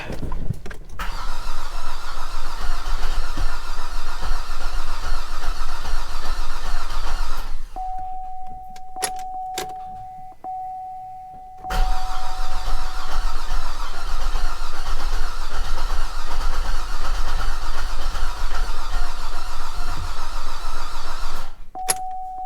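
A flood-damaged Cadillac SRX engine cranks steadily and loudly for several seconds, falls quiet, cranks again with a thin tone, then catches and runs with a continuous close, even drone to the end.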